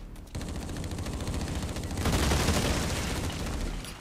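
A grenade exploding in the video game Blacklight Retribution, a loud, sustained rumbling blast that swells and stays dense for several seconds.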